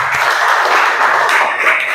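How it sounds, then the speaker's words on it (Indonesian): Classroom applause for a student group after a presentation, a steady dense wash of clapping hands filling the whole moment without talk. "Tepuk tangan untuk kelompok 3."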